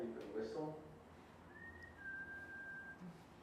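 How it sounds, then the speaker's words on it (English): A patient whistling after a facial nerve graft, a thin sustained tone held for a couple of seconds, faint against a quiet room, with a voice talking briefly just before. "So he can even whistle."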